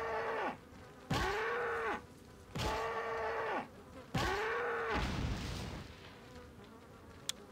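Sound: cow mooing in Resident Evil 4 video game

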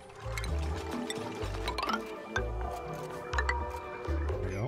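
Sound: water filling an area, from the video game

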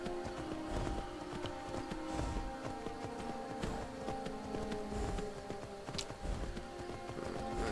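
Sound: horse hooves in video game Skyrim

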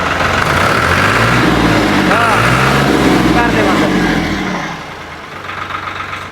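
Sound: tractor engine starting and running

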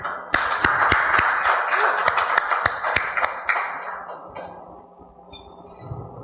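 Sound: sparse applause from the audience

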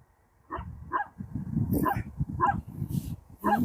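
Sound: dogs barking in Güzelyurt, Cappadocia

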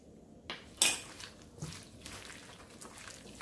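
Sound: mixing gochujang pork bulgogi marinade in a bowl

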